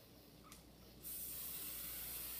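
Hot Huez hair chalk sprayed from a can, a brief puff followed by a sustained bright hiss that continues steadily to the end, close and alone.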